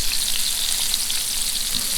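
Tomato sauce with carrots bubbling in a pot for cheese-stuffed meatballs, a steady soft crackling simmer heard close up with no talking.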